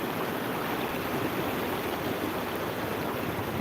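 Pazarsuyu creek, a stream near Bulancak, rushes steadily over its bed, a close, even wash of flowing water heard alone without a break.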